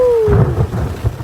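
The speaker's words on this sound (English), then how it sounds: "it's raining like crazy bananas" Heavy rain with thunder in the Canadian wilderness, a loud rolling rumble over dense close rain hiss in a brief burst.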